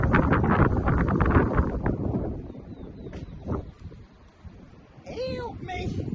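Strong wind storm gusts blowing across a garden, roaring loudly at first, then easing and picking up again, with faint voices and small chirps in between.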